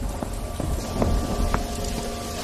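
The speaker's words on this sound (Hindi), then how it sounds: "धीरे धीरे बारिश बढ़ जाती है" Steady cartoon rain hisses as a broad wash of noise, with a few louder drip-like taps scattered through it, moderately loud and continuous with no voices.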